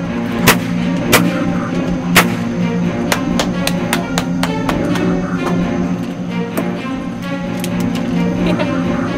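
Firearm shots at an outdoor shooting range in Warrenton, Virginia, sharp loud cracks repeating irregularly over a steady rumbling background, some close and some more distant.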